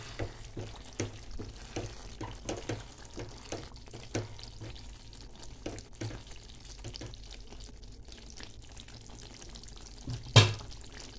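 A spoon stirs bennis masala curry in a pan once the oil rises to the surface, with soft, repeated scraping strokes over a low sizzle and a sharp clank near the end.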